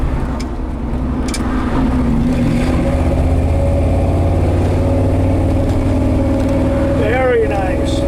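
A 1968 Ford F250 pickup truck drives along at steady loudness, its engine droning and pulling under acceleration on a test drive, with road rumble and a brief voice near the end.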